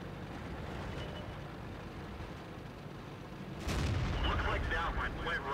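A tank cannon booms on an Arctic map in World of Tanks, a single heavy shot near the end over a steady engine rumble and battle noise.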